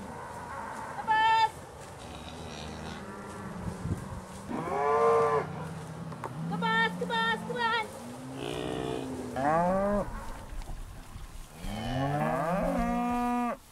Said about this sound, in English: watching the cattle graze in a lush pasture